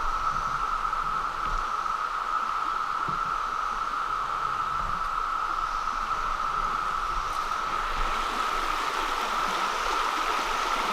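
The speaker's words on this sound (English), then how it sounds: "The water's overrunning the cicadas this time." Running water outdoors, close and steady, with a shrill, constant cicada drone running through it in the aftermath of a tornado in Daniel Boone; no voices, just an even wash of flow and insect buzz.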